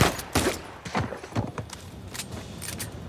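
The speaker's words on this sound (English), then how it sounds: "Still someone shooting at me?" Gunfire aimed at the player in Uncharted 4 during an auction house robbery: a handful of muffled shots and impacts at irregular intervals, moderately quiet and somewhat distant.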